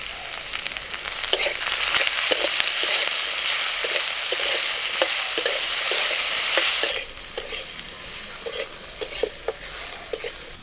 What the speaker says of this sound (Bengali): সরষের তেল, প্রথমে আলুগুলো ভেজে নিচ্ছি।